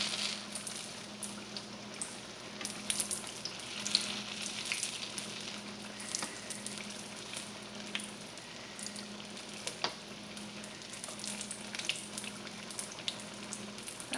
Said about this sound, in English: I'm putting the fire a little bit low because my oil is really hot.